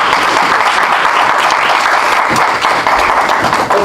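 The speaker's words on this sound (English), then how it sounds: "Let's give him another round of applause." Sustained applause from an audience at a poetry night, a dense, steady wash of clapping at full strength, with no voices over it.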